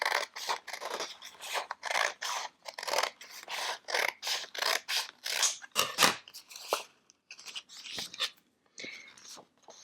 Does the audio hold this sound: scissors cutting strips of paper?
yes